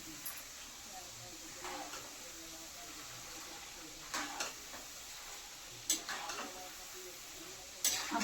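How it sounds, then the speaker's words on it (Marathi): Roasted chana dal (daliya) frying in hot oil for Diwali murmura chivda, a steady soft sizzle with occasional stirring scrapes and clinks of a utensil against the pan. "आता डाळ्या मस्त तेला करून घेते"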